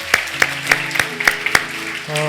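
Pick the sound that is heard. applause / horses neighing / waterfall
applause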